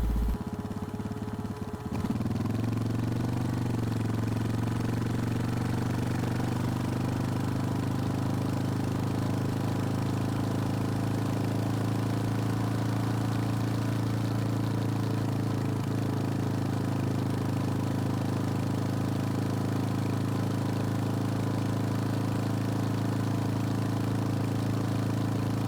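A motorcycle engine drones steadily throughout a ride, a loud, even low rumble with a brief shift in pitch near the start and no talking.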